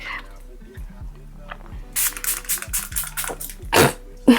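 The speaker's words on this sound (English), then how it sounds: "now I'm gonna set my face with Milan Make It Last setting spray" Several quick bursts of fine facial setting spray hiss close by, a rapid cluster of misting puffs following a few softer pumps.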